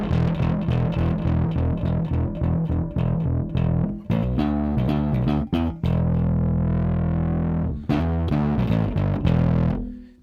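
Gritty, saturated bass notes played in a chugging rhythmic pattern, thick and loud with a fuzzy distorted tone, a few sustained notes between runs.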